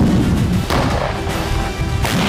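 Dense rumbling artillery fire from the war in Ukraine, a continuous loud roar of booms and blasts running through the whole stretch with no pause and no talk.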